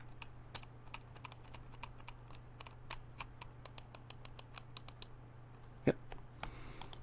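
A computer keyboard clicks with light, uneven taps, quiet and close, against a low steady hum, with one sharper thump near the end.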